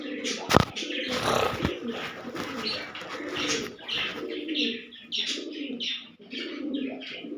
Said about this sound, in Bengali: আছে গোটা 7টা পায়রা আছে।